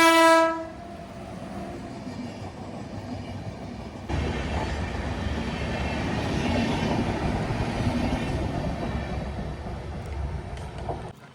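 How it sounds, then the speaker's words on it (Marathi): A train sounds a loud horn blast at the start, then rumbles past on the tracks near a village, its steady roar and rattle of wagons building and holding for several seconds. "बघा गाडी आली बघा."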